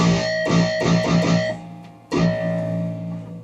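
Electric guitar with bright ringing pinch harmonics: a quick run of picked notes, a pause, then one sustained harmonic chord ringing out, no talking.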